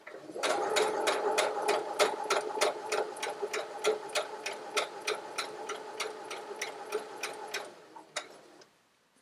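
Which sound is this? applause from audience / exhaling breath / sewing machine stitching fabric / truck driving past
sewing machine stitching fabric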